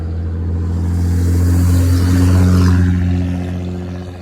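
A car passes close on a road, its engine hum swelling to a peak and then fading away over a few seconds, loud and steady with no talk.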